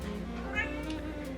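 A cat meows once, a short drawn-out cry close by over a steady low hum.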